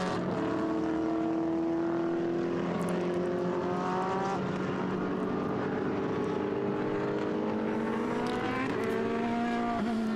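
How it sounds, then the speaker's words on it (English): Race cars lapping Silverstone during 2015 qualifying in damp conditions with rain on the start-finish straight, steady loud engine whine with rising and falling pitch sweeps and a faint tyre squeak, no talk. "So the cars then head to the pit lane,"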